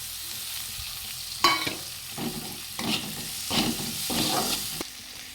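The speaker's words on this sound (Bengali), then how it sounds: "পেঁয়াজ আর লঙ্কা কুচি করে রেখেছিলাম, ভাজতে দিয়ে দিলাম।" Chopped onion, chilli and tomato sizzle in a frying pan, a soft steady crackle broken by several bursts of scraping as the mix is stirred, close by with no talk.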